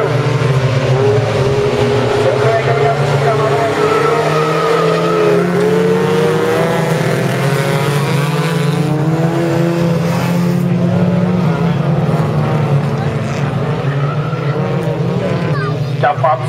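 Folkrace cars racing flat out on a dirt track at Fjärås in a women's A-final, engines roaring loud and continuous, with shifting revs and tire noise. A commentator talks over them throughout.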